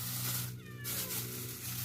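A cat gives a single drawn-out meow over a low, steady background hum, close and clear, with no other sounds around it.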